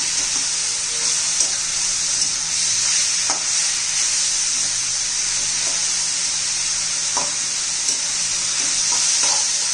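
Grated bottle gourd sautéing in a pan for a Marathi zunka, a loud steady sizzle with occasional spatula taps and scrapes, no voices.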